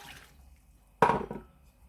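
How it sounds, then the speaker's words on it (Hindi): A sudden splash of one cup of water poured into a pot of spinach and meat, loud for about half a second then tapering off, with quiet before it. "1 कप ये पानी डालूंगी इसमें,"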